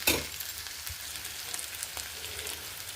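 Green chilli paste frying in oil in a pan, a continuous close sizzle with a brief scrape at the start and light stirring noises, no one talking.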